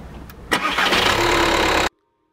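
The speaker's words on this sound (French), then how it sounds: "Donc, on va démarrer le moteur." A car engine cranks briefly and catches during a timed cranking test, then runs at a loud, steady idle up close before cutting off abruptly.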